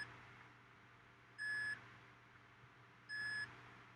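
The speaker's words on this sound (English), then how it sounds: "beeping on the NAS." A TerraMaster F5-422 NAS buzzer sounds after a drive is pulled from its software RAID5 array: two evenly spaced, faint electronic beeps over a low steady hum.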